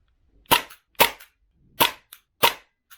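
AAP-01 airsoft pistol in stock form, before any upgrades, fires four crisp, close, sharp snapping shots at uneven intervals, each followed by a faint mechanical click, with silence between.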